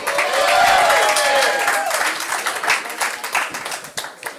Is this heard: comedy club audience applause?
yes